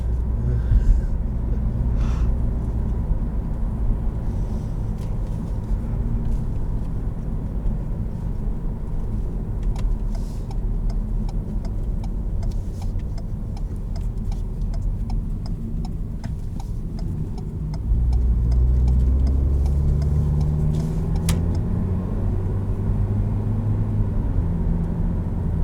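A 2019 Ford EcoSport with all-wheel drive cruising on the road, its engine a steady low rumble with road noise that rises slightly near the end as revs climb, no voices heard.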